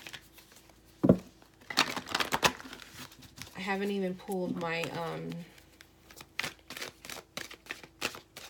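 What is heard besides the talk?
shuffling tarot cards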